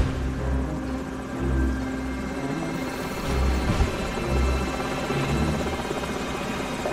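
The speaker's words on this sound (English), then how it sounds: "Enemy helicopters." Enemy helicopters in Call of Duty 4: Modern Warfare, rotors thumping steadily throughout, a low pulsing drone with a few heavier rumbles and a sharp thud midway, no voices.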